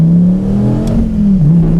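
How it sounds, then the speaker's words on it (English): A Dodge Viper launching hard from a stop on a wet road, its engine revving loud and close with a steady droning pitch that dips briefly as the tires spin. "I'm just gonna launch it. Oh, a lot of wheel spin."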